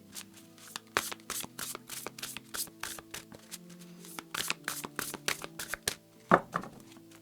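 Oracle cards being shuffled by hand, a quick series of crisp riffling flicks and slaps close by, with a brief louder handling rustle near the end and no speech.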